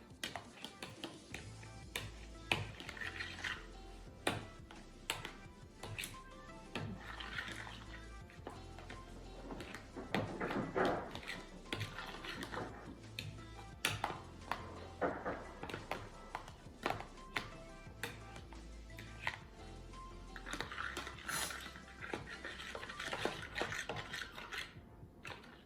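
An egg is beaten with a fork in a bowl, giving quiet, irregular clicks, taps and scrapes of metal against the bowl that come in uneven bursts.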